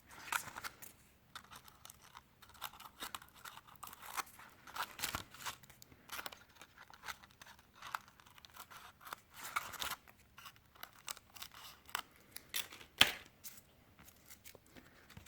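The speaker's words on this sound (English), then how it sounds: "I just diagonally cut the corners." Scissors snip through paper in a run of quiet, close, irregular cuts, each a short crisp rustle, with slight crinkling as the corners are trimmed diagonally in a faux linen craft project.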